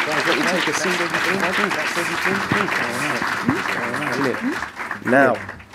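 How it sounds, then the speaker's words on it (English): An audience at a BFI Future Film Labs freelance session applauds its panelists, steady clapping running under voices that talk and cheer over it, with a brief loud whoop near the end. "why don't we give a round of applause? To our panelists?"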